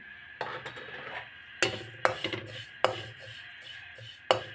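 Shahi cumin seeds dry-roasting in a pan for homemade garam masala, with sharp scraping clatters of a spoon against the metal at irregular intervals over a faint background hiss.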